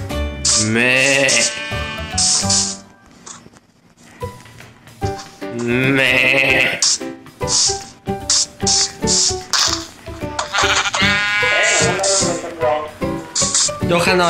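Sheep bleat several times inside a video game, the calls rising over a steady stream of lively conversation between players.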